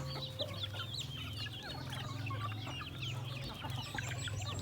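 Several native Thai chickens, large birds near two kilos, clucking and chattering continuously at close range in a flock of fifty or sixty, with a low steady hum underneath.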